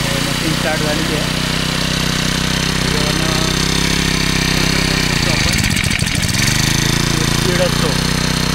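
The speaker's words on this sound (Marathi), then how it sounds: "मशीन स्टार्ट झालेली आहे." Freshly started bladed petrol machine engine runs steadily at a loud, close, droning idle, with a brief throttle dip and recovery midway, while a person talks over it.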